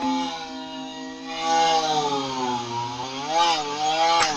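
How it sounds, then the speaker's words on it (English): A chainsaw cutting through a log outdoors while a tree is felled in a front yard, its buzzing engine note rising and dipping as it bites into the wood, moderately distant and continuous. "he's sawing a log"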